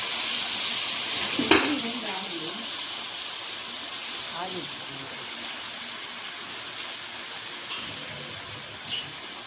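Mutton fries in a pan for a cucumber curry, giving a steady broadband sizzle throughout. A few soft scrapes and clinks of stirring come through, and a voice speaks briefly in the background.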